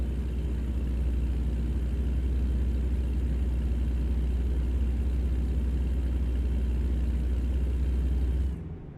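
Heavy truck engine in American Truck Simulator holds a steady, deep rumbling drone for about eight seconds before cutting off abruptly, with no talking.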